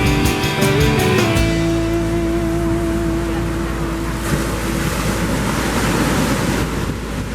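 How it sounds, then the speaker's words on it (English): Ocean waves on the shore at Lion's Den Gorge Nature Preserve surge in a loud, continuous rush, heavy wind buffeting the microphone, with a brief tonal hum at the start fading out. "look at those waves"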